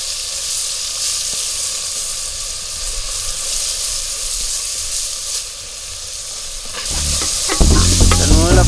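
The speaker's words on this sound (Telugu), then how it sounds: "నూనెలో మంచిగా వేపుకోవాలి." Dried prawns fry in hot oil with a steady, loud sizzle and hiss, and a utensil stirs and scrapes the pan, the clatter growing busier near the end.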